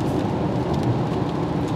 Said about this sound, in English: raindrops hitting some point there and making a tick-tick noise